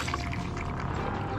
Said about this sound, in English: it's a water pump going